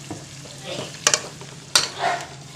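Masala being stirred into chicken in a hot pan for chicken kadai, a close sizzle broken by two sharp spoon clanks against the pan and a short scraping stir, with no one speaking.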